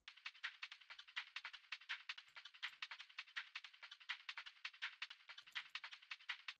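A high shaker sample, chopped and rearranged into a drum and bass pattern, plays as quick, even rattling hits in a steady busy rhythm, bright and crisp, alone and fairly faint.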